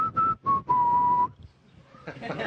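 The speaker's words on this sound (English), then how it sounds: "Now Ron's got a whistle." An astronaut aboard Space Shuttle Atlantis on mission STS-135 whistles a short tune in the airlock during depressurization, three clear bursts of steady pitch, close and fairly loud, then fading into low background hiss and noise.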